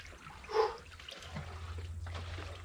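Water in a baptismal font splashes and trickles as an old man immerses himself, with one louder splash early on, then softer sloshing and dripping close by.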